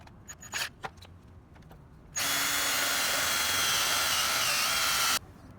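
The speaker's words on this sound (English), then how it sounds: "Pull this tab out and start drilling." Power drill boring a hole into an Audi A4/S4 roof rack, a steady loud high whine running for about three seconds after a few faint clicks and taps.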